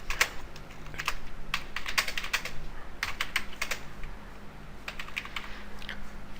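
Java code is typed on a computer keyboard, producing a steady, close run of light key clicks with occasional louder strikes, continuing without pause and without any voices.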